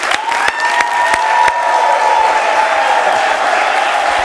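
A church congregation applauds and cheers for a pastor: steady, loud clapping from a crowd with whoops, and a sustained tonal note running beneath.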